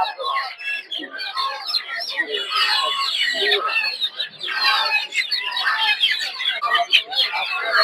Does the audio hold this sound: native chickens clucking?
yes